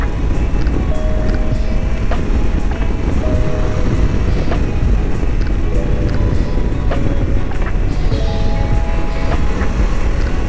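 Triumph Tiger 1200 Rally Explorer motorcycle riding on the road in Chiang Mai, Thailand, a steady loud engine and wind roar running continuously throughout, with faint tonal beeps from the bike's electronics.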